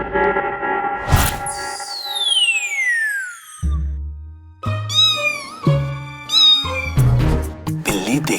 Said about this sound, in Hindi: लगता है वो नकचड़ी बिल्ली आज फिर आ गई है।